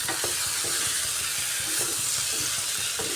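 Whole green chilies dropped into a frying spice mix with paneer, potato and soybeans: a loud continuous close sizzle with stirring scrapes and crackles, no talking.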